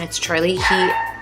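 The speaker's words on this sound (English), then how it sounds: "If you guys hear barking in the background" A pet dog barks and yips a few times at a bird, close by, mixed in with someone talking over it.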